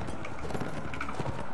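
Horse hooves clip-clop in Mount and Blade Warband, a quick irregular run of thudding hoofbeats over a busy, noisy game background.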